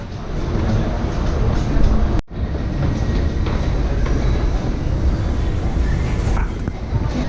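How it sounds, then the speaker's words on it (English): Loud steady rumble and roar of a train moving through an underground metro station in Istanbul, Turkey, with a brief cut in the middle and a faint screech near the end. "Turkish metro station."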